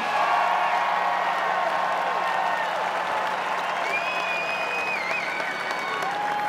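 Stadium crowd at the 2014 Giants World Series championship celebration cheering and applauding steadily and loudly, with whistles and shouts rising over the dense roar throughout.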